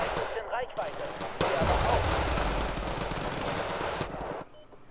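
MG3 machine guns firing from a Fuchs and an M113 in a video game, a dense sustained burst of rapid automatic fire lasting several seconds before cutting off.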